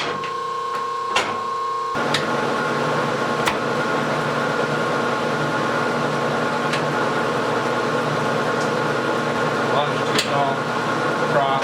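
A rebuilt Harrison M300 lathe runs at slow speed, giving a steady, fairly quiet mechanical hum and whine with a few faint ticks, while someone talks over it.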